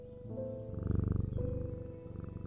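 A pet cat purrs softly and rhythmically while being petted, the rumbling pulses close and quiet under a faint background hum.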